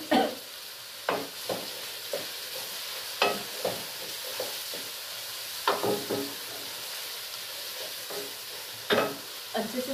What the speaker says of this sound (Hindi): फ्राई कर लेते हैं कुछ देर